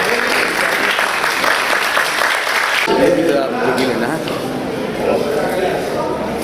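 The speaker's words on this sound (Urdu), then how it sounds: "جناب اب آپ تالی بجا سکتے ہیں۔" Dense, sustained audience applause at an Urdu speech competition event run by a welfare foundation, loud and continuous throughout, shifting in tone midway as the crowd noise settles without stopping.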